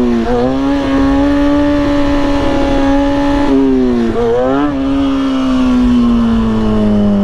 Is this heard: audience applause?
no